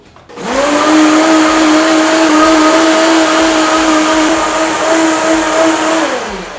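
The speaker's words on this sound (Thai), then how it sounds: "เราก็จะมาปั่นครับ โอเค ลองนะปั่นดู" A kitchen blender whirs steadily through a fish sauce and oyster sauce mixture for a Thai holy basil sauce, starting abruptly and holding a loud, even motor whine to the end.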